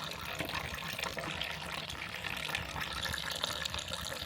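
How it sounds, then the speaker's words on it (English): Water drains from a broken washing machine in a steady, fairly soft rush that runs without a break, with no voices over it. "Just letting it drain out."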